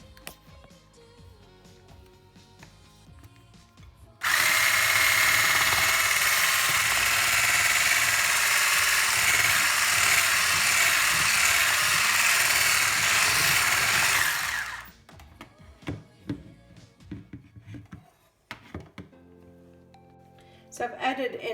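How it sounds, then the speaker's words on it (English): An electric mixer whirs through orange cheesecake batter after four eggs have been beaten in, a loud steady motor whine that starts abruptly, runs for about ten seconds and cuts off, with a person talking quietly before and after. "So I've added in all 4 eggs, beating well after each, and now I'm just going to give it a final whirl."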